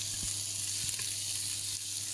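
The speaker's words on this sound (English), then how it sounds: "it is obviously hot because it's sizzling away nicely" Sliced onion sizzles in a dash of hot oil inside a Breville Sage Fast Slow Pro multi-cooker, a continuous crackling fry with a faint low hum underneath and no talking.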